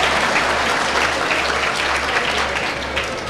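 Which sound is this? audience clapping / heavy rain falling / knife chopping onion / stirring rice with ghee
audience clapping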